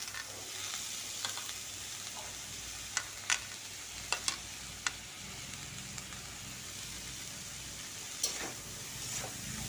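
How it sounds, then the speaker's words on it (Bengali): Snake gourd with coconut and other vegetables frying in a pan, a faint steady sizzle broken by a few sharp clicks of stirring, with no talking. "এবার যে সবজিগুলো রেখেছিলাম সেগুলো আমি দিয়ে দিচ্ছি।"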